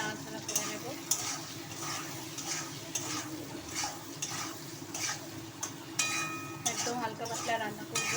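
A spoon stirs fish curry with salt and turmeric in a pan, giving soft scraping and faint sizzling at a steady rhythm. The sound carries on evenly from nearby and no one speaks over it.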